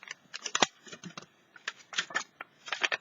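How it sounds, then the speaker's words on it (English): Scissors snip through mixed media craft tags in a quick run of short, crisp cuts that come in uneven bursts with brief pauses between them, close and fairly quiet. "You could cut these out."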